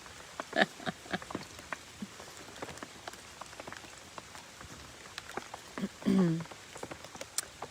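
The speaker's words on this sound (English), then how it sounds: "I am in the rain in the hot tub." Rain falls steadily on an outdoor hot tub, a soft patter of scattered drops with a few louder splashes. It stays faint and close, with no talking.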